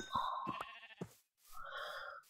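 A sheep in the Minecraft video game bleats twice in quick succession, each short wavering call quiet and alone.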